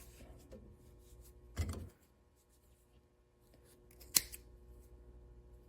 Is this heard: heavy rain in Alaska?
no